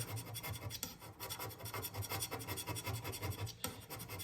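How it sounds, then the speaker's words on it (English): Hand scraping the sliding way surface of a DIY CNC milling machine, a close, steady run of rasping metal scrapes repeating in quick strokes. "what this scraping will do is it'll give the area a place for oil to sit"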